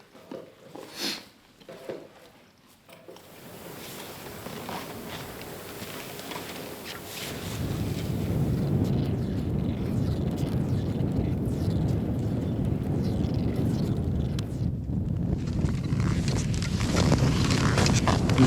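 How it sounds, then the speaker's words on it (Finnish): Steady wind roars and gusts across an open, snowy mountain ski trek between Sälka and Singi in Sweden, rising sharply after a quieter start with some handling noises and building to a loud, continuous rush with falling snow. "Tuntuu, että tuuli vähän yltyy ja lumisade."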